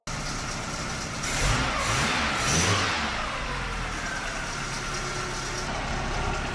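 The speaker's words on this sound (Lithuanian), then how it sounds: "Pats variklis dirba neblogai, bet iš generatoriaus yra garselis" A Volkswagen Golf Mk2 engine with a rebuilt carburettor runs steadily, with a slight whine from the alternator and two brief swells in revs near the start. The engine is loud and close, with no talk over it.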